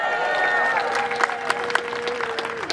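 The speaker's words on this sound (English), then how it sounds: "Can I get a clap for that?" Audience clapping at a political rally in Berkeley, steady broadband applause running throughout with scattered louder claps and a few voices over it.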